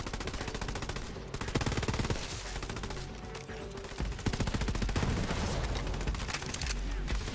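Sustained automatic gunfire in the video game Borderlands 3 crackles in loud, fast bursts that run almost without a break, with a few heavier thumps.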